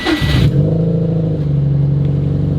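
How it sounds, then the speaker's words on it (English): A Subaru WRX STI engine settles from a brief rev into a steady, loud idle, with a deep, even rumble heard close up and no talking. "Let's go ahead and let it idle for a little bit."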